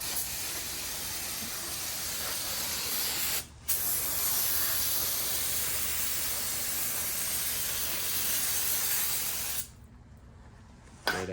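Hand-held spray can hissing in a long continuous burst, loud and close, with a brief pause near the start and a cutoff before a short final spurt, set in an engine build session.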